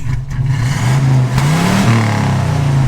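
A 1957 Chevy 3100 truck engine running steadily at idle with a slight rise in revs, a close, continuous low rumble.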